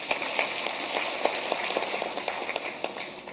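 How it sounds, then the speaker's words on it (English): Audience clapping at a corporate governance event in Kenya, a dense patter of hands steady throughout, close and fairly loud with no voices over it. "Let's clap for Sheila again."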